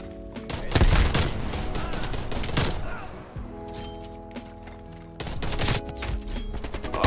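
Type 63 rifle fire in Black Ops Cold War multiplayer; a dense volley of rapid, punchy shots, then a short lull and more bursts, loud and close, over game sounds and some speech.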